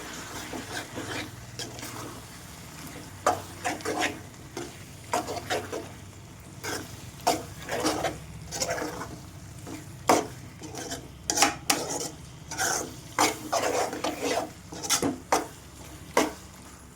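A spoon stirs spices into a brinjal and tomato curry in a metal pan, with steady scraping and clinking that speeds up into busy, rhythmic strokes toward the end.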